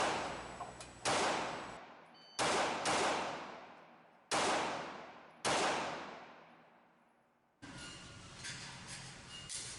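Five sharp, loud 9mm shots from a Smith & Wesson Model 39-2 semi-automatic pistol fired at a target 25 feet away, spaced irregularly over several seconds, each with a long decaying ring, then steady background noise.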